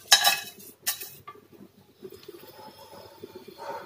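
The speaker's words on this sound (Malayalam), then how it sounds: "ഇതേ എണ്ണയിലേക്ക് തന്നെ നമ്മൾ എടുത്തു വെച്ചിട്ടുള്ള പട്ടയും ഗ്രാമ്പും ഏലക്കയും കുരുമുളകും കൂടി ഇട്ട് കൊടുക്കാം." Whole spices, cinnamon, cloves, cardamom and peppercorns, drop into hot oil in a pan for Malayalam-style ghee rice, giving two brief bright rattling clatters near the start followed by a soft, low crackle and quiet utensil clinks.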